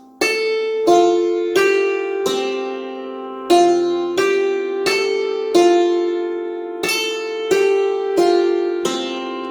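The Westminster chimes melody rings out in clear, resonant bell-like tones, about fifteen struck notes in groups of four, each ringing and decaying with no talk.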